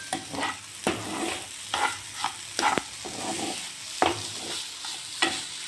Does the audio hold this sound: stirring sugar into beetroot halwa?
yes